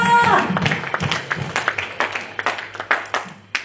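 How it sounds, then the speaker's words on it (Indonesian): Congregation applause at a church worship service, a scattered burst of clapping that builds into steady rhythmic claps, with a voice briefly heard at the start. "Kasih tepuk tangan dulu dong buat Tuhan kita"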